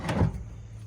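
Small drawer in a DIY camper sliding open, one brief soft scrape and knock, close by and quiet.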